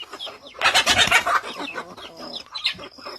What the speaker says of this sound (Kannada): ನಮ್ಮ ಹತ್ರ ಕೋಳಿ ಇದ್ದಾವೆ ಒಂದು 30-40